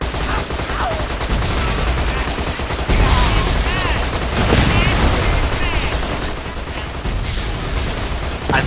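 Enemy gunfire in Borderlands 2 crackles in rapid, sustained bursts, with dense shots overlapping heavy rumbling, as players talk over the firefight.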